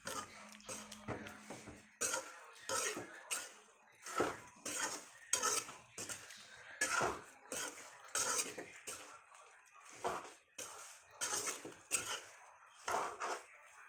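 Food is stirred in a cooking pot with a spoon, making repeated scraping and clattering strokes in an uneven rhythm, close and fairly loud throughout.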